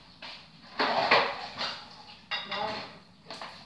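Dishes are washed in a kitchen sink, with soft clinks and knocks of crockery and running water coming in short bursts, fairly quiet and close.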